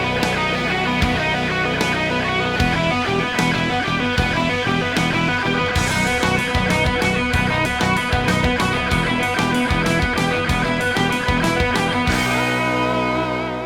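Distorted electric guitar plays a riff, a five-note group repeated over and over in a driving, continuous loud rhythm with no pauses, heard up close with no voices.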